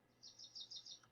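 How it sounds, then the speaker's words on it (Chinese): A forest birdsong sound effect: a bird gives a quick run of faint, high, twittering chirps in a short rapid burst against a quiet ambient background. "那偶尔出现一些鸟叫声"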